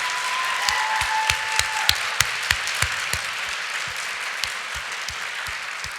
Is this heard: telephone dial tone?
no